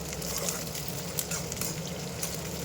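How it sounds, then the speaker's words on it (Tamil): Green chillies sizzle in hot oil for a Bombay chutney, giving a continuous close hiss with scattered small crackles and pops and no voices. "அதோட பச்சை மிளகாய் ஆட் பண்ணிடலாம்."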